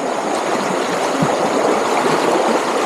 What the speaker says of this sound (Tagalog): Sarap pakinggan ng ang tunog ng daloy ng tubig.